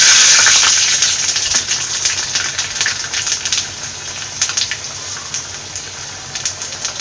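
Mustard seeds and shallots hiss and crackle in hot oil for a Kerala moru curry, a loud close sizzle that starts strong and settles into steady spattering with scattered pops.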